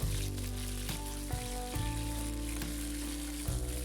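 Halved capsicum frying in hot oil gives a dense, close sizzle with crackling pops running throughout over a low steady hum.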